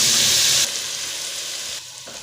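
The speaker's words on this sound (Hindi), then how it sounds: "अब ये टमाटर और लहसुन अदरक सब्ज़ मिर्च का पेस्ट जो बनाया था," Tomato, garlic, ginger and green chili paste hits hot oil with browned onions, giving a loud, steady sizzle that quiets slightly partway through and dips again near the end, with no talking.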